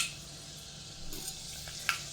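Fenugreek seeds frying in oil in a kadai give off a steady soft sizzle, close and fairly quiet, with a faint stir or clink near the end and no voices.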